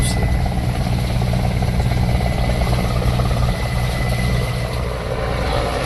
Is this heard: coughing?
no